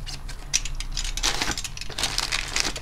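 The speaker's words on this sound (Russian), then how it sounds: "Так, приступим к открыванию." A parcel package from Ozon holding a Mizon snail mucin facial foam is opened by hand, with close crinkling, rustling and scattered sharp crackles of plastic and packaging, and no speech.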